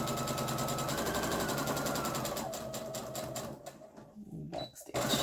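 A sewing machine runs a back stitch across fabric, a steady close mechanical whir for a few seconds that slows and breaks into short uneven bursts before stopping.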